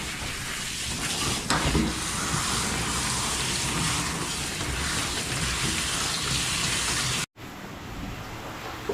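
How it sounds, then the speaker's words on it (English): Continuous hiss of spraying water rinsing shampoo off a Cavalier King Charles Spaniel during grooming, close and steady before a brief break and restart. "I'm going to go ahead and rinse his shampoo off."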